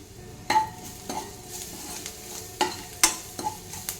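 Ginger garlic paste and coriander powder sizzle in hot oil in a pan as Telugu-style egg poha is cooked, with a steady close crackle broken by several sharp spoon scrapes and clinks against the pan.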